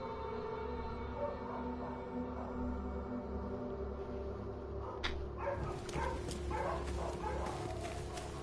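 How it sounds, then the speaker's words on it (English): A dog barks and yips repeatedly in the background of the game The Sinking City, the sharp barks clustering in the second half over a steady low ambient hum. "Don't mind all the dog noises in the background."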